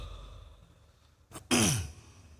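A speaker at a public speech in Thane clears his throat once and then gives a short, sharp cough, close by, after a quiet moment.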